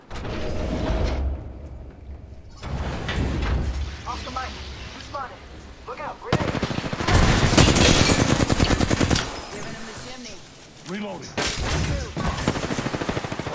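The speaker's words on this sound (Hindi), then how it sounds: "I am taking fire, friends." Video game gunfire on a laptop stream, bursts of rapid automatic shots and impacts, fairly loud and dense in the middle, mixed with game mechanism noises while a player talks over it.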